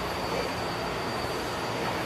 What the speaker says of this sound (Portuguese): Olha lá, aquele metrô ali.